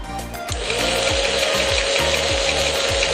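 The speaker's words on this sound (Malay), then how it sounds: "Kalau anda tekan butang di sini, door bolt ini akan bergerak dengan sendirinya." A motorised bolt on a remote-controlled smart door lock whirs and clicks in a rapid repeating mechanical rhythm, close up and steady after a sharp start, with a persistent electronic hum behind it and no talking.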